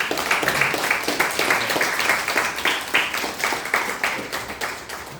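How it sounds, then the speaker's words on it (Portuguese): Applause from a church prayer-group congregation, a steady wash of many hands clapping together at moderate loudness with no voices over it, holding evenly for several seconds. "Vamos aplaudir o Senhor Jesus."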